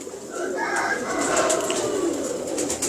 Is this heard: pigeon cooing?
yes